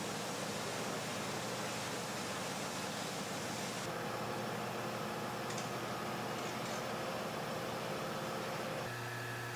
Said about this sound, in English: Use pressure washer to force any sediment in sub-tank down through the drain.